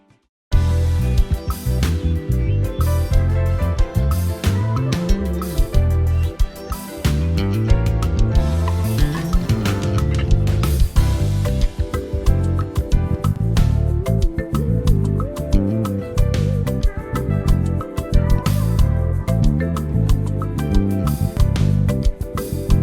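A dense, loud music mix with a deep, steady bass guitar line running under drums and other instruments throughout.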